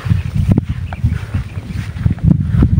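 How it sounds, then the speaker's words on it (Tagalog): Gusty wind buffets the microphone in low rumbling bursts, continuous throughout, with a faint higher hiss above. "Malakas na yung hangin."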